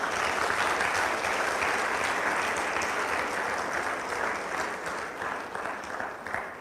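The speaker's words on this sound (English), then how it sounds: "they deserve a rousing applause" Audience at a conference event breaking into sustained applause, a dense even roar of clapping that holds steady and tapers slightly near the end.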